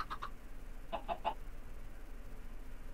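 Chickens in Minecraft cluck in two short bursts, a pair of quick clucks and then a tight run of three, close and clear over a faint background hum.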